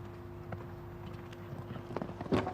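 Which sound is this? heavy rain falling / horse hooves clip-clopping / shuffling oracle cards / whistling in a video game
horse hooves clip-clopping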